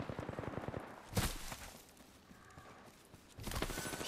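Gunfire in the Apex Legends video game, a quiet rapid rattle of automatic shots in a short burst, a lull, then another burst.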